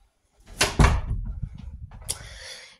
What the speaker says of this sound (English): and close my door.